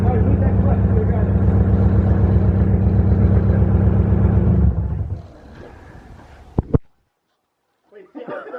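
A newly rebuilt car engine starts and idles with a loud, even rumble for about five seconds, then winds down, gives a couple of brief knocks and cuts out, with people talking nearby.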